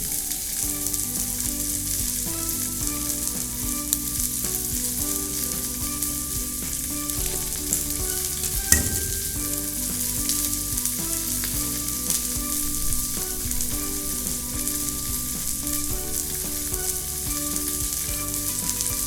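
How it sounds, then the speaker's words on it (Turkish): Beef entrecote searing in a hot pan, giving a loud, dense and unbroken sizzle that holds steady for a long stretch, with one sharp knock partway through and no talking. "Etimiz bir yandan mühürleniyor."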